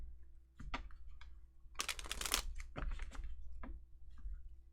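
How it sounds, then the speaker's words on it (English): Tarot cards being shuffled by hand at close range, a few quiet riffling bursts and soft taps separated by short pauses, with no talking. "Excuse me while I shuffle for the clarifiers."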